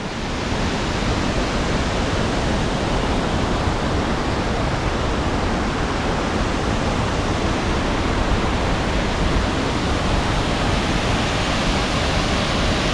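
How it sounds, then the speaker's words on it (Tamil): A constant roar of falling water at Thoovanam Falls near Munnar, Kerala, loud and unbroken throughout, with surrounding forest and no other sounds breaking through. "ஒரு அருவிங்க."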